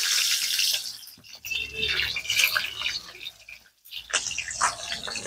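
Green chillies frying in hot fish oil in a Bengali village kitchen, a loud bright sizzle and crackle that swells and dips, with brief pauses, close and unaccompanied by talk.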